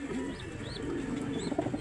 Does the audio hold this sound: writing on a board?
no